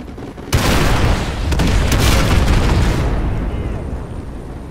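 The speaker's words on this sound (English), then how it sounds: "Fire mission received. Artillery inbound." Artillery explosions boom in the Call of Duty Modern Warfare 2 campaign after a half-second lead-in, followed by a loud, sustained roar of blasts and rumbling debris that slowly tapers off.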